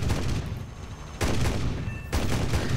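Yak-9T cannon firing in War Thunder: rapid heavy bursts of automatic cannon fire in three close, loud volleys over a steady aircraft engine roar.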